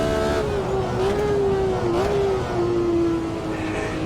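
The M1 Procar in Automobilista 2 sings a sustained high engine note that holds, dips briefly on a gear change around the middle, then carries on steadily, loud and close.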